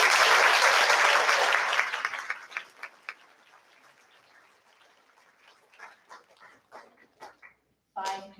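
Applause from an audience at a 5th grade school awards ceremony swells loudly for about two seconds, then thins into scattered claps and fades, with a brief burst returning at the very end.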